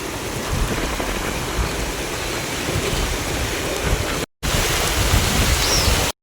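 Heavy rain pours down on an open field under a dark sky, heard from beneath a palm tree as a loud, unbroken hiss that fills the whole stretch without any talk.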